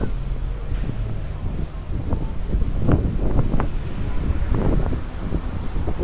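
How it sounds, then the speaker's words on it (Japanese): Gusty wind buffets a microphone outdoors on a city date stroll, giving a constant low rumble and scattered thumps with no clear voices. "風が厄介だよな"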